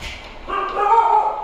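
A pet dog gives a short whiny bark, close and fairly loud, a single brief yelp rising out of a quiet room.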